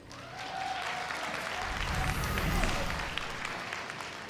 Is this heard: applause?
yes